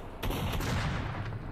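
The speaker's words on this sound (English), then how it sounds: "What are they shooting at? Who's in there shooting?" Gunfire in S.T.A.L.K.E.R. Shadow of Chernobyl: a loud, close burst of a few sharp shots with a booming tail, set against rumbling game ambience.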